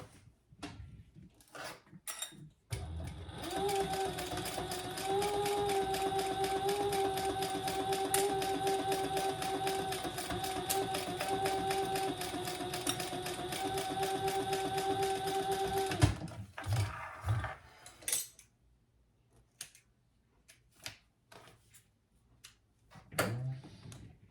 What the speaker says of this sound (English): we're gonna sew that on with the seam allowance in the pattern